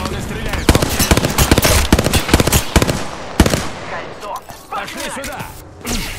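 Enemies in a video game fire bursts of rapid automatic gunfire, loud and close at first and then more scattered, while a player talks over the shooting.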